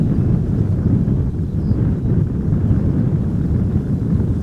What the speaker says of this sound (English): Wind is picking up,